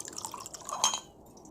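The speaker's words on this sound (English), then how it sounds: "I'm just going to pour myself a glass here." Talisker whisky pours from a Stormtrooper-shaped bottle into a glass, with quiet trickling and dripping and a small clink partway through. Close and faint, with nobody talking.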